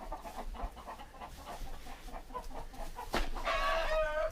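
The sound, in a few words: chickens clucking in a chicken coop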